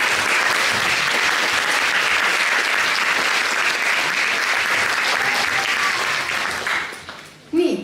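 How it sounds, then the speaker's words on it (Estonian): Sustained audience applause at a spring charity concert, steady and dense clapping filling the hall before fading out near the end. "Palun teeme neile aplausite."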